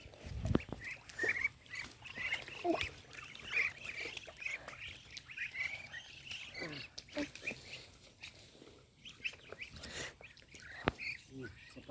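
A scattered flock of about twenty ducks quacks and chatters outdoors, their calls mixed with rustling and a voice in the background.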